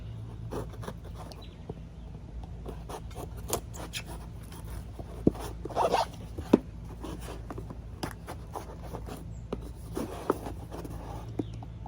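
A taped-up cardboard box is opened up close, with scraping, rubbing and tearing tape, a few sharper cracks and rips, all over a steady low background hum.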